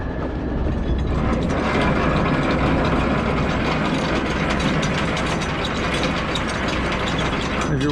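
On an old-school truck, a fifth wheel pin is pulled, heard as a loud, continuous mechanical rattling and ratcheting clatter close by, steady throughout without any talking.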